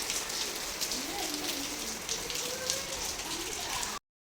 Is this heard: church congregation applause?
no